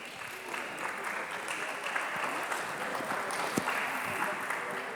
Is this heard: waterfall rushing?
no